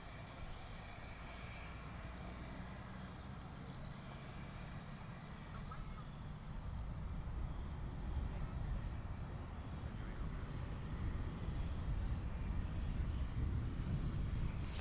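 A Finnair Airbus A350 airliner at DFW airport gives a low, broad engine roar that builds slowly and stays steady at a moderate distance, with talk heard faintly around it.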